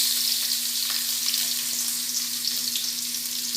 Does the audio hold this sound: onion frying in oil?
yes